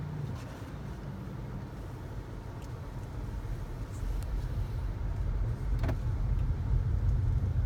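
A 2018 Honda Clarity on the move produces a steady, quiet low road rumble that swells slightly over time, with no engine roar standing out.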